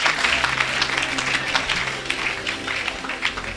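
A church congregation at an evangelical service applauds steadily, many hands clapping together in a dense, continuous patter that fills the room.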